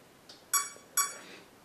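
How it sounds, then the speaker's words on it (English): Two short electronic beeps from the ESC of a Ready2Fly F-18 Super Hornet RC jet with a power fault, evenly spaced about half a second apart and fairly loud against a quiet background. "you also hear deep the two beeps from the ESC itself"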